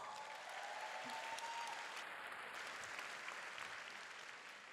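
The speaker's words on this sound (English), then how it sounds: "We should give Nu Skin another super big round of applause." An audience at a business conference talk in Southeast Asia breaks into a full round of applause, a continuous crowd of clapping hands heard at a distance and fairly soft, holding steady before easing off at the end.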